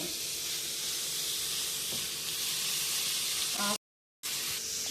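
Egg puff dough fries in hot oil with a steady, close sizzling hiss that continues throughout, broken once by a short silent gap.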